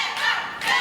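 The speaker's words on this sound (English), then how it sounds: "Audience is starting to come alive. Sounds like they're cheering for Shane Marks here." Audience at a P.C.W. professional wrestling match cheering during a referee's count, a dense, steady roar of many voices that swells twice in quick succession, fairly loud and unbroken, with no distinct speech on top.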